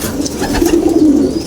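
Breeder hens of a gamefowl flock give a low, soft cooing call, close and fairly loud, a single brief murmuring vocalization with no talk.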